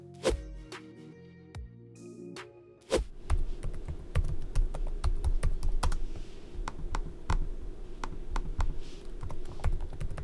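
Rapid clicking of keys on a computer keyboard, with a few separate taps first and then a dense, continuous stretch of typing, close and clear, recorded with a deadcat windscreen on the microphone.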